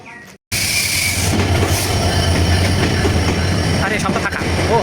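A passenger train at a station in Pabna district, Bangladesh, rumbles steadily and loudly after a brief gap, with low wheel noise and faint squeals.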